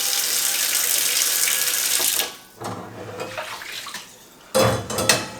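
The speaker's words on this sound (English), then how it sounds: "if this is hot, I'm going to put some water in it" Water splashes and sizzles into a hot cast iron pan with a broad hiss, fades to softer clatter and bubbling, then a second brief hissing splash.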